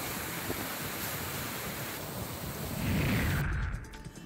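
Floodwater pours from the eight open gates of the Nandur Madhmeshwar dam during heavy rain, a continuous close, broad rushing roar that swells briefly before easing off at the end.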